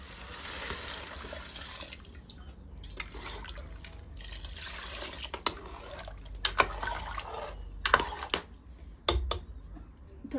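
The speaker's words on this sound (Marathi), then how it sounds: "आणि आता आपण याच्यात पाणी घालून देऊया." Water is poured from a vessel into vegetable bhaji cooking in a pan, giving an irregular splashing trickle with a few sharp clinks of utensils against metal in a quiet kitchen.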